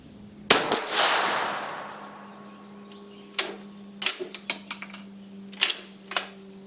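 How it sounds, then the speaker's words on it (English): A Swiss Vetterli rifle fires at an outdoor range: one sharp, loud report that rings away in a long fading tail, followed after a pause by a quick cluster of crisp metallic clicks and clacks, with no talking. "We're shooting at 50 yards, like I said."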